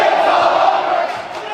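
A high school basketball crowd cheering loudly as the game nears its end, a dense roar of voices from the stands that eases off slightly toward the end.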